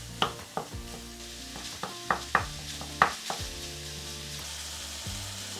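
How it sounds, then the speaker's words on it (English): Half a kilo of beef mince sizzles in a pan on medium-high heat, a quiet steady frying hiss broken by several sharp clacks of a utensil stirring and breaking up the meat. "It's now been sizzling for approximately 5 to 6 minutes"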